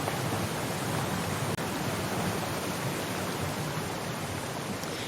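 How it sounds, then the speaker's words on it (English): A mountain stream in Syberia: The World Before rushes loudly and steadily, a dense, unbroken roar of water close by with no other sounds. "with the water rushing, the sound of the water, it's like so loud"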